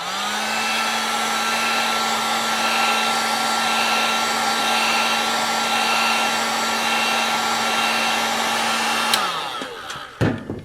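A hair dryer heats a sticker on a new snow brush, a loud, steady close-up whirring blow with a constant hum that runs for about nine seconds, then shuts off and winds down, followed by a few handling knocks.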